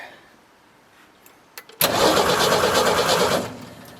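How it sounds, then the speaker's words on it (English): Forklift engine cranking and catching as soon as the ignition is switched on: a few faint clicks, then a sudden loud start into a steady close running roar that eases after a couple of seconds. "it is trying to start as soon as I put the ignition on"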